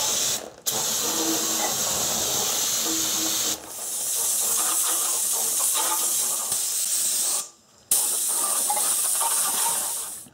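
Compressed air blasts over a Subaru 2.5L engine on a stand in long, loud hissing bursts separated by brief gaps, close and steady with no voices.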